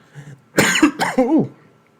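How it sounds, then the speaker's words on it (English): Two or three dry, harsh coughs in quick succession, close and fairly loud, with no speech around them. "dry cough"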